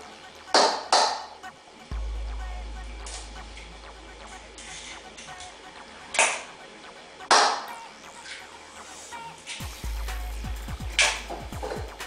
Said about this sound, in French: Nous allons ensuite ajouter nos œufs.